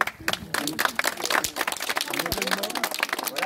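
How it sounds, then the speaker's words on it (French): A group of visitors on a summer walking tour in Fresney, Normandy, breaks into applause. The clapping is dense and sustained, close by, mixed with a voice speaking over it. "on peut applaudir quand même"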